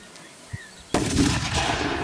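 A single loud, sharp mortar blast at an outdoor artillery training range bursts out after a quiet moment, followed by a rumbling echo that rolls on and fades slowly.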